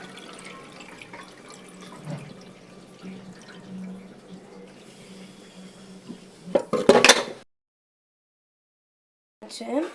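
Pots and dishes being scrubbed and rinsed under running water at a kitchen sink while preparing sambar and poriyal, a steady wash of water with clinks of metal utensils, building to a louder clattering burst before a brief silence.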